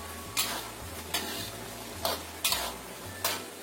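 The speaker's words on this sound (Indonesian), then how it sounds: "Aduk sampai mengental." A utensil stirs fried chicken in a pan as cornstarch sauce thickens with it. Soft sizzling runs underneath, and five sharp scrapes and clacks of the spoon against the pan land at irregular intervals.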